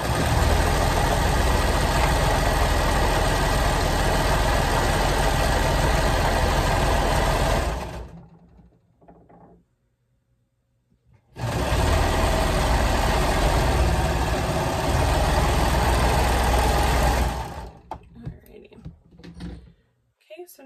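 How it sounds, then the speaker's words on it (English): A sewing machine sews the side seam of a lounge gown from hem to strap, running loud and steady for about eight seconds, stopping briefly, then running again for several seconds before quieter handling sounds. "we're going to sew from the bottom to the strap to our mark on the strap"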